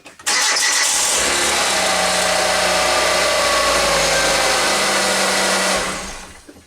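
A 2008 Kia Rio engine cranks briefly and catches right after a spark plug replacement, then holds a loud, steady idle close by for several seconds before cutting off.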